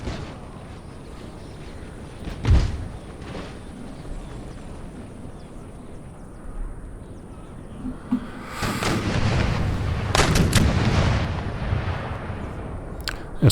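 Musket gunfire in an Empire Total War battle on farmland, a sharp shot early on, then dense crackling volleys and booming reports rolling together, loud and continuous through the second half.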